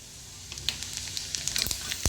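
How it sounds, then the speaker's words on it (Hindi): Cumin seeds sizzling in hot refined oil in a pan, a soft steady hiss broken by quick scattered crackles and pops, close and fairly quiet. "तो तेल हमारा गरम हो चुका है। अब इसी के अंदर हम डाल देंगे ½ टीस्पून जीरा"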